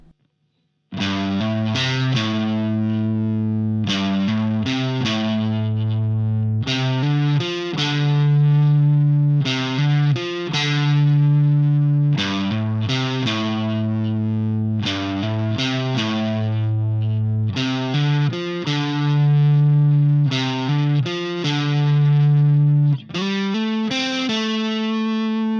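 A distorted electric guitar riff plays alone, loud and sustained, repeating a chugging phrase of held, gritty notes with short breaks between bars.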